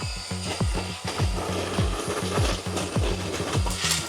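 A Sequoia pole saw cuts through a tree branch, giving a steady back-and-forth rasping rhythm of repeated strokes, fairly close and moderately loud outdoors.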